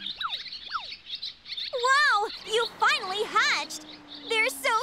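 Newly hatched chicks in a children's cartoon chirp in quick high tweets, mixed with sliding cartoon sound effects and squeaky animated voices talking.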